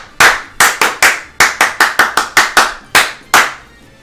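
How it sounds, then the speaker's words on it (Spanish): Sharp, close hand claps, roughly a dozen in an uneven rhythm with short pauses, sound alone as applause for a person. "un aplauso para Alain Candango"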